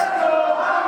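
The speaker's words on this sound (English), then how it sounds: "And listen to this crowd again." A wrestling event crowd roars in a steady, dense wall of cheering and shouting, loud and continuous with no clear breaks.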